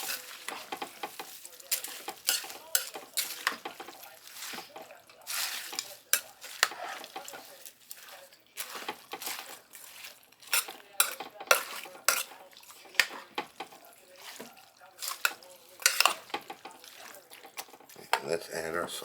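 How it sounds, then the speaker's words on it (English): Spoon stirring a hominy and chicken mixture in a pot, close up, with irregular scraping and clinking against the metal and a faint sizzle underneath. "Give that a mix."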